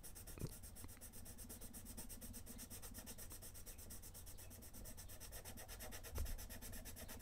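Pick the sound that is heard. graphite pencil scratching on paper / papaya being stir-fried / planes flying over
graphite pencil scratching on paper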